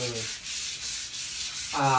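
Steady rasping of wet sandpaper rubbed back and forth over a surface, continuous and close, with a brief tonal squeak near the end.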